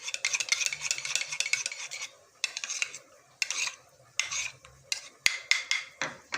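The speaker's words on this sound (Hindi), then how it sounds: "4 चम्मच के करीब दही लिया और इसको अच्छी तरह बीट कर लेंगे" Yogurt being beaten in a bowl with a spoon while preparing chicken yakhni pulao, a quick run of close, bright scraping and clinking strokes in rhythmic bursts with a brief pause partway through.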